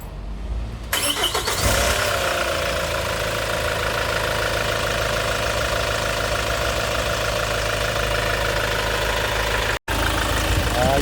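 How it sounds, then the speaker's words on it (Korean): A car engine starts and then idles steadily and loudly for several seconds during a check in a repair shop, with a brief dropout near the end. "엔진 소리도 좋고요."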